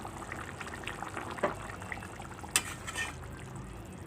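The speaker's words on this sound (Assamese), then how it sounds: "আৰু 5 মিনিট টাইম মই এনেকৈ উতলিব ৰাখি দিম" Singi fish curry with manimuni and bhedailota simmers in a pot in a home kitchen, a soft, steady bubbling hiss with a couple of faint clinks.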